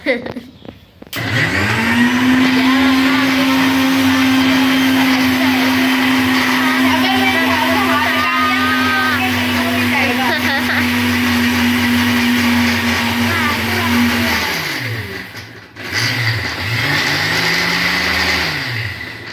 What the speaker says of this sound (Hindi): मिक्सी की आवाज नहीं सुनाऊंगा,